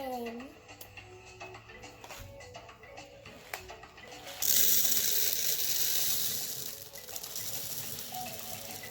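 Water poured into a container to grow Orbeez water beads, a steady close splashing rush that starts suddenly after several seconds of small clicks and handling noises and continues to the end.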